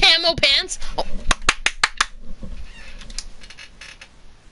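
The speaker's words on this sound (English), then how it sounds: "That was me clapping, by the way." Hands clap sharply about five times in quick succession, close and loud, following a burst of game audio and voice at the start, with fainter sounds trailing afterward.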